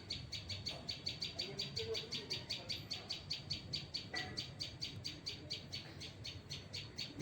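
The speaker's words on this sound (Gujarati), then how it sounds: "આ બાજુ ચકલી છે" Rapid, steady sparrow-like chirps repeat over a low background rumble, sharp and evenly paced throughout.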